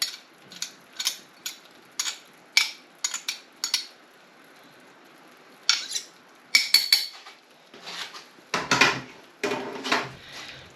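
Sharp, intermittent knocks and taps as the back of a kitchen knife presses and crushes garlic on a board, irregular clusters of close, crisp clicks with short pauses between them.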